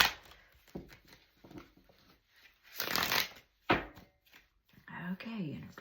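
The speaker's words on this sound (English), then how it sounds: "I'm going to shuffle these upside down this time, see if I can really cause havoc" Tarot cards shuffled upside down by hand, several quick riffling bursts and soft card slaps up close, with a voice speaking around them.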